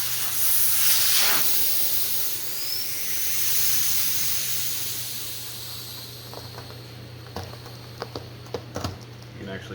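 Air hisses out of a tire once the valve core is removed, a loud, steady close-up rush that gradually fades over several seconds, followed by faint clicks and taps as someone speaks briefly.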